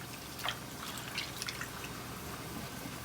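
Water drips and trickles into a cooking pan in a home kitchen, a few light splashes over a low, steady background hiss.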